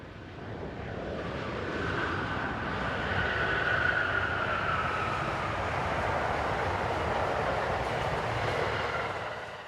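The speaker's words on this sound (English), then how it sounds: "Amtrak's Crescent, train 19, with number 625 in charge." Amtrak's Crescent passenger train 19, led by locomotive 625, rushes past as a continuous broad roar that swells and stays loud for several seconds, with rail noise and wind buffeting.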